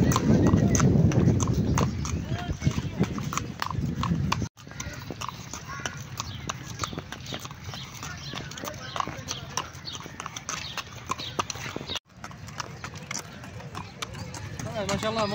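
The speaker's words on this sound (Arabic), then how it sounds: "ممتع في ركوب الخيل" Horse hooves clip-clop steadily during a ride around a park in Rawalpindi, a regular rhythmic clatter heard close up for the whole stretch, with people talking over it and a louder rumbling stretch at the start.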